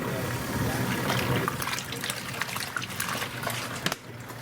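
Dirty water draining from an off-grid washing machine during laundry; a steady rushing, trickling flow runs continuously, fairly close, then drops off abruptly near the end.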